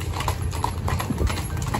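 Hooves of a horse clip-clopping in a steady rhythm, fairly close and clear, with a light background hum and no talk.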